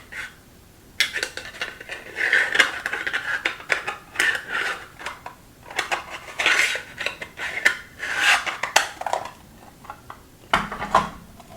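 Plastic diamond painting storage trays with lids clatter and rub as they are handled close up, with repeated bursts of knocking and scraping and no talk.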